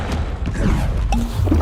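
A Confringo fire spell blast erupts in Hogwarts Legacy, a loud close thump and crash with a fiery whoosh, followed by further impact bursts within a second and a half.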